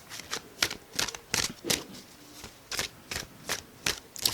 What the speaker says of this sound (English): I'm going to pull a few tarot cards, extra tarot cards for you guys.